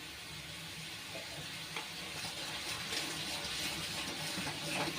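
Spice paste with cumin and chili powder sautéing in a pan for a hilsa fish curry, a dense continuous sizzle and hiss that grows slightly louder near the end, with no voices.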